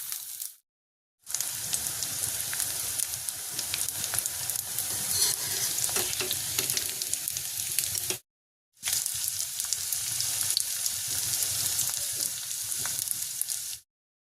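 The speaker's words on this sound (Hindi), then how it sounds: "गोंद को तलने के लिए मैंने घी डाला है" Edible gum (gond) frying in ghee, a steady dense crackling sizzle that runs loud and continuous, broken by two brief silent gaps.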